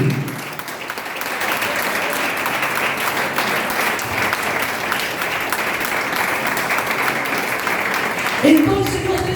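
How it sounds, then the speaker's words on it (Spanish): A church congregation applauds steadily throughout, a dense even wash of many hands clapping at close range with no break. "Se le va a aplaudir"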